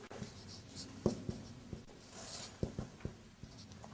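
Pen writing on paper: soft scratchy strokes and small taps in irregular short bursts, faint and close against a quiet room background, no talking.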